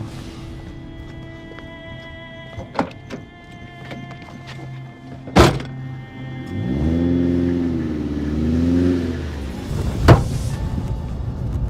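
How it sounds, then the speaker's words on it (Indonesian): A car engine revs and pulls away nearby, the tone rising and wavering for a few seconds, set between sharp thumps like doors and quieter background noise. "Sial, mobil yang barusan tadi itu pasti mobil membawa Saskia."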